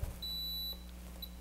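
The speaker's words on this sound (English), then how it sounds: "when an alarm trips, a light lights up, a horn sounds" The horn of a Precision Digital Vigilante II alarm annunciator sounds when an alarm trips: a thin, high electronic tone held for about half a second, followed by a short repeat, faint over a low steady hum.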